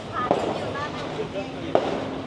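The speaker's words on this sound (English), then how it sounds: "More fireworks going off." Fireworks bursting a couple hundred metres away during a night walk along Patong Beach Road in Phuket, Thailand, two sharp distant pops standing out over street crowd noise and chatter.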